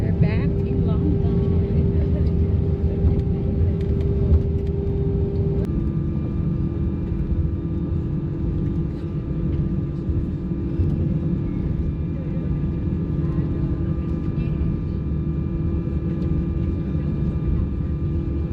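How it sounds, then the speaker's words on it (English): Inside an EasyJet airliner landing in London after an hour's flight from Amsterdam, a steady loud cabin engine drone hums on, its tone stepping down partway through, with a voice talking over it. "And we're landing after an hour from Amsterdam."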